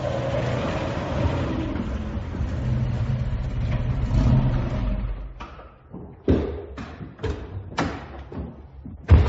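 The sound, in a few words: car engine starting and driving off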